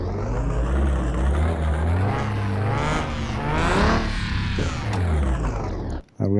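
Car engine run on a dyno in Car Mechanic Simulator 2021, revving up and down in repeated loud close sweeps before cutting off abruptly near the end.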